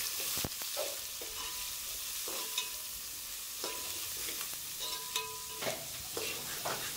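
Chopped onions fry in a pan for gongura chicken, a soft steady sizzle punctuated by scraping stirs and clinks of the spatula against the pan, close and clear.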